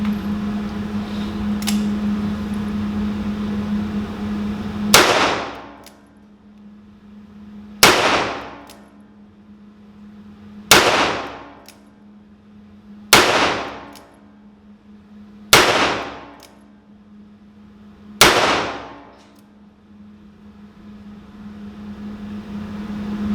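A Ruger GP100 revolver fires six Winchester .38 target rounds at an indoor range, each loud sharp report ringing out and decaying, spaced roughly two to three seconds apart over a low background hum.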